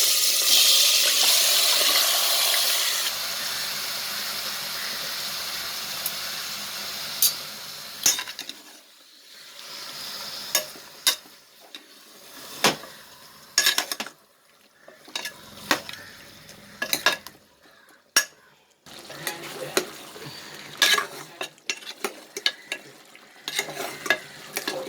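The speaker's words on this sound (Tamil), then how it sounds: "இந்த மசாலா சேர்த்து ஊற சிக்கனை நல்லா வதக்கிடணும்" Country chicken (nattukozhi) sautés with masala in a pan, opening on a loud steady sizzle that fades, then gives way to irregular close stirring scrapes and clinks of a utensil against the pan.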